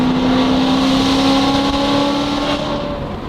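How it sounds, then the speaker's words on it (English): A car's engine roars steadily and loudly as it passes close by, the tone sustained throughout and easing slightly toward the end. "That's a good sounding car, Fudge"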